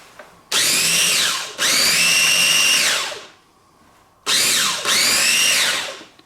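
A blender pulsing a ginger carrot dressing with vegetable oil, three loud motor bursts that rev up and wind down with short pauses between, no speech.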